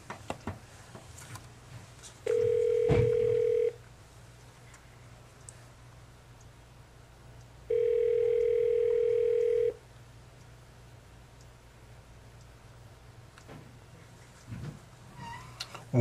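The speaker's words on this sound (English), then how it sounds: "You will dial your second telephone number and press the dial soft key." An Aastra 6757 VoIP desk phone gives two sustained steady tones, each lasting about one and a half to two seconds with a pause between, followed by a few faint clicks and quiet room noise.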